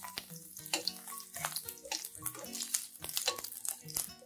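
Chopped garlic with bay leaf and black pepper frying in hot oil for hilsa roe, a close, crackling sizzle with irregular pops, alone without talk.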